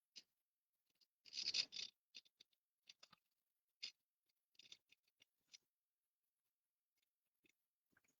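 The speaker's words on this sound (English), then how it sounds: "And then this one we do have to cut out. So get that cut real quick." Scissors snip out a paper card piece for a multilayered stamped greeting card, one quick burst of close crisp cuts followed by scattered small snips and rustles, quiet and sparse with no talk.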